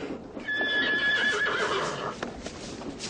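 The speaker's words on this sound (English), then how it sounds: "Oh, that's Jimmy's horse" A horse whinnies clearly in a long tonal neigh lasting over a second, with hooves clip-clopping and outdoor rustle around it, fairly close.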